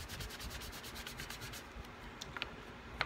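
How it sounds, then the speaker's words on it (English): Wet sponge rubbed over leather to case it for leatherworking, a soft, steady scrubbing with repeated strokes in the first half, then quieter with a few small taps and clicks near the end, close and fairly faint. "casing the leather."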